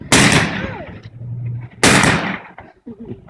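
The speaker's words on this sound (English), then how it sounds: "I got a couple more rounds to burn off." Two loud black-powder gunshots from a Civil War reenactment firing demonstration, each a sharp blast followed by a decaying outdoor rumble, spaced under two seconds apart with faint crowd murmur between.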